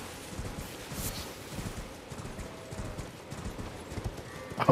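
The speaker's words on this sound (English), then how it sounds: "Oh, it's a goat." Goat hooves clatter in rapid, uneven clip-clop steps in the video game Elden Ring, close and fairly loud against a dim ambient bed, ending with a brief sharp burst.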